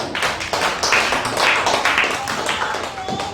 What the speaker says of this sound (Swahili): Pigia Yesu Kristo makofi.